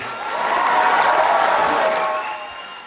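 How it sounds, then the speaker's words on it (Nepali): Steady applause from an audience at a live folk song performance, swelling and holding for a couple of seconds with some crowd noise, then tapering slightly. "दर्शक महानुभावहरू उहाँको लागि एकचोटि जोरदार ताली दिउँ"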